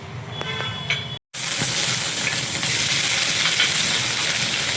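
Chili, ginger and garlic hit hot oil in a wok with a sudden loud sizzle that keeps crackling steadily after a brief moment of quiet and a few light clinks.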